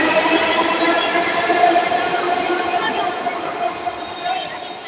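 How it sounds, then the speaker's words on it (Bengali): A Dhaka metro rail train running, a loud steady rumble and whine of wheels on track, with a voice talking faintly over it. "আমাদের বাংলাদেশের মেট্রো রেল মতিঝিল থেকে উত্তরা পর্যন্ত এই রেলটি যায়।"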